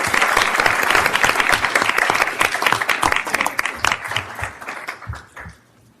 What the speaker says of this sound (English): get another round of applause for